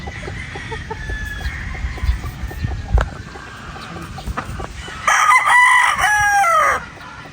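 A Boston Black brood stag rooster crows once, loud and close, a long strained cock-a-doodle-doo near the end, after quieter clucks, rustling and outdoor background noise.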